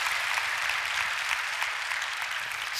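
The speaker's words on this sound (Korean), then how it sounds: "박수를 쳐주시면" Faint, steady applause from a church congregation during a Friday prayer service sermon, an even wash of clapping heard from a distance.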